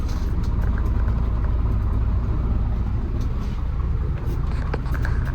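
A car engine idles while warming up before a trip out of Villavicencio in the rain, a steady low rumble with a constant drone and faint ticks on top.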